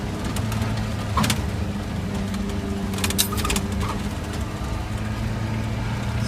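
A 4WD vehicle grinds up a steep dirt forestry track in 2-wheel drive with the front hubs unlocked, its engine a loud steady drone with faint rattles and clicks over it.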